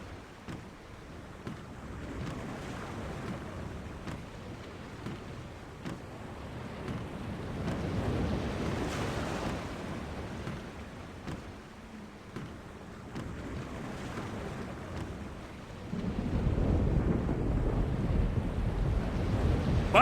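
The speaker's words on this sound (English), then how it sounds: "The storm is closing in." A sea storm in a video game rumbles with wind and crashing waves, a dense roar that swells in the middle and grows heavier toward the end, with no voices.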